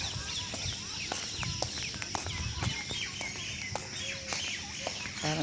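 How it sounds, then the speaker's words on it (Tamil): Birds, likely parrots and mynas, call and chirp in a leafy green walking area, with many short sharp calls scattered over a steady outdoor hiss and low rumble. "பறவைகள் சத்தம் என்ன அருமையான சத்தம்"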